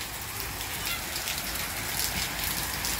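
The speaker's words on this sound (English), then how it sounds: "it's raining. It's not raining heavy, but look, the rain is very thick" Thick rain falls steadily outside a house, a dense, even hiss of drops that stays loud and unbroken throughout, with no voices.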